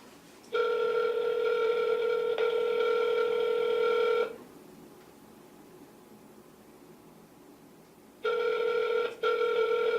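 A telephone rings on an outgoing call, giving a loud, steady electronic tone that sounds for about four seconds, goes quiet, then starts again as the next ring cycle begins.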